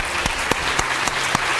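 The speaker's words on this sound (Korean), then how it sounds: "저희 스폰서랑 자원봉사자들한테 정말 큰 박수 한번 보내주시기 바랍니다" A short burst of clapping from a conference crowd at PyCon Korea 2015, steady, brisk applause with a few sharper claps standing out.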